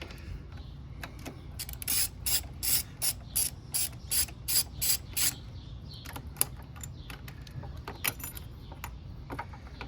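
Ratchet on 8mm bolts during front wheel removal on a Honda GL1500 Goldwing motorcycle, a quick run of about nine sharp clicking bursts followed by scattered lighter clicks and handling noises, close and clear.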